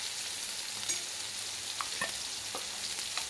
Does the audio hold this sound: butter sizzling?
yes